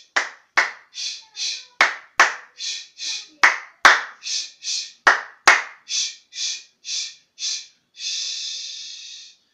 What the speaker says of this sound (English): let's give ourselves the Chinese clap.